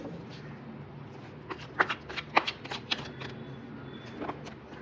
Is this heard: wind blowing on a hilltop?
no